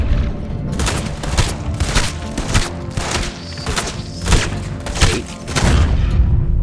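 Gunfire in the online Western shooter Red Dead Online: a rapid, dense volley of loud booming shots and thuds crowding together over several seconds, close and with no speech.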